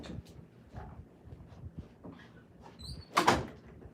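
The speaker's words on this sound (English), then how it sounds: "Let me close the door" A door is pushed shut indoors: soft shuffling and a few light knocks, then one louder latching thud with a brief squeak near the end, alone without talk.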